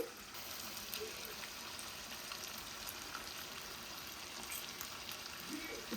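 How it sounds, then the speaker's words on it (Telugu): Soft, continuous sizzling of coarse curry leaf powder frying in a pan, quiet and even throughout, with faint occasional scraping. "ఇప్పుడు ఈ పొడి బాగా కలిపేసి మనం కొద్దిసేపు ఫ్రై చేసేసుకుందాం"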